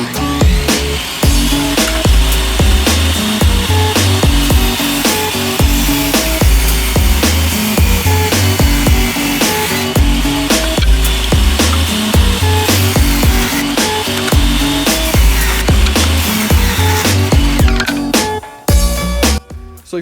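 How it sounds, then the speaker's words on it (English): A cheap job site table saw cuts wood pieces, loud and close, with a busy motor whine and repeated rhythmic cutting passes that wind down near the end, no speech. "now I'm going to use the table saw to cut down my pieces"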